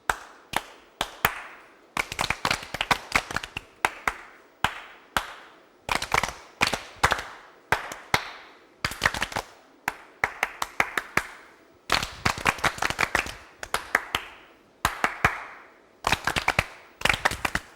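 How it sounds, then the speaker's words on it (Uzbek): Groups of children clap their hands together in short rhythmic bursts of about four sharp claps, with pauses between bursts, loud and close with no talk over them. "Baravarga 4 ta qarsak chalamiz"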